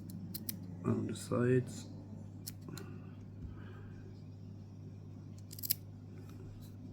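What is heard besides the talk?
trimming fly-tying thread while tying a shrimp fly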